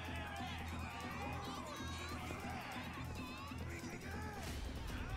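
A dense crowd in the video game Like a Dragon fills the space with overlapping chatter, shouts and shuffling, a busy continuous murmur with scattered higher voices throughout.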